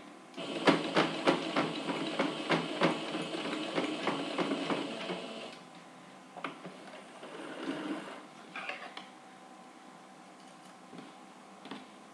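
A sewing machine runs in quick rattling bursts while stitching a strap onto the main fabric of a toiletry bag, fairly faint and close, the needle's rapid ticking stopping and restarting in short runs with pauses between.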